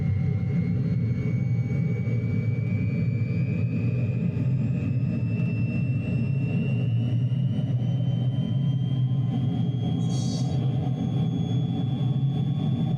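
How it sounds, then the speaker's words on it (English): De Havilland Vampire jet engine at full power in Microsoft Flight Simulator 2020, a steady, loud turbine roar with a slowly rising whine during the takeoff roll, continuous and close with no talk. "At full power, release the brakes and begin the takeoff roll."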